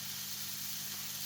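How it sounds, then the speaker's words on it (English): Beefsteak fungus mushrooms (Fistulina hepatica) fry in a pan with a continuous, even sizzle and hiss, close and moderately loud, with no talking. "Frying up nicely."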